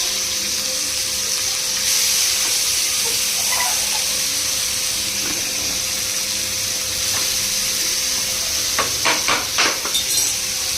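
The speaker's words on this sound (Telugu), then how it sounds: "తిరిగేస్తున్నాను చూడండి" Curry frying and bubbling in a pan as it is stirred, a steady hiss from start to finish, with a few sharper clinks and scrapes near the end.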